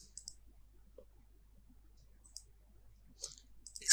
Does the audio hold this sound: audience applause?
no